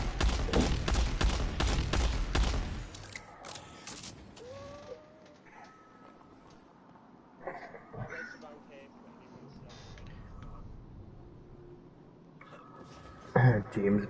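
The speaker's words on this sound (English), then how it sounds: "I'm going to shoot where you need to jump to." A rapid burst of gunfire in a video game opens loudly, then gives way to quieter scattered effects and a few sharp sounds near the end, with someone talking over it.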